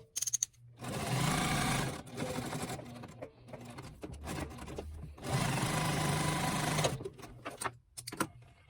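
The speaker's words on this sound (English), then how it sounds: "now we're going to go stitch around all 4 of our edges here using 1/8 seam allowance" A sewing machine stitches around the edges of a quilted Christmas stocking with a 1/8 inch seam, two long loud whirring runs of rapid stitching separated by quieter handling and short bursts, up close with no talk.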